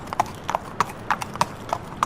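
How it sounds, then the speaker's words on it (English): Horse hooves clip-clopping at a steady walking pace, seven crisp, evenly spaced knocks close to the listener, with no voices or other sounds around them. "So I spurred my horse and we rode on into Lagos"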